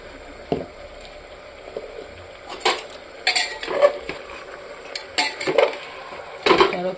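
Meat cooked down in a pressure cooker pan is stirred and scraped, giving loud irregular clanks and scrapes of a spoon against metal over a faint low sizzle, with no talk.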